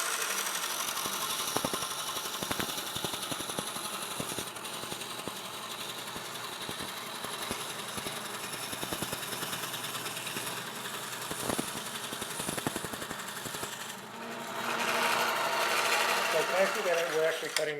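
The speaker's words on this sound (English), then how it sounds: "We're actually cutting through a rock substrate." Inland DFS-100 ReefKeeper coral band saw with variable speed motor cutting calcium reef rock, a steady high whirring buzz with fluctuating grinding under it, swelling louder near the end.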